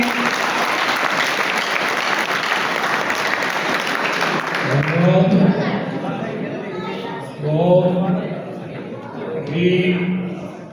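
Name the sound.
applause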